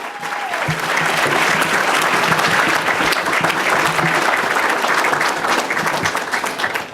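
An audience gives loud, sustained applause for a congresswoman at a morning event, a dense roar of many clapping hands with crowd noise, steady for several seconds before easing slightly at the end.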